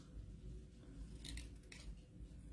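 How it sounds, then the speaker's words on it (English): Scissors fussy cutting a tree shape out of designer series patterned paper for a pop-up Christmas card, a few soft snips close by over a low steady background hum. "just going to quickly fussy cut this really fun tree here that is also from the Designer Series paper"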